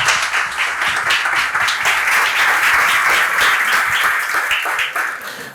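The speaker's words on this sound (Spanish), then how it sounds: "Le damos un aplauso y empezamos." An audience at a live talk event applauds in a dense, steady wave for several seconds. The clapping stays loud throughout and tapers off at the very end.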